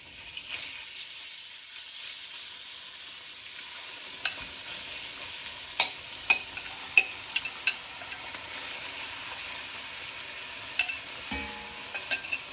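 Chicken pieces browning in a pan for a curry produce a soft, steady sizzle with occasional sharper pops and clicks of stirring, heard close and alone.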